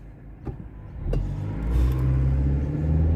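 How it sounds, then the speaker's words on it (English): A car approaches and passes on a road near a pond and creek, its low rumble swelling from moderate to loud and holding steady, with no talking. "Oh, here comes another car. I've got one behind me too."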